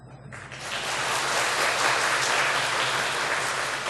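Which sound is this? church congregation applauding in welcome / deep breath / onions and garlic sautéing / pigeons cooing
church congregation applauding in welcome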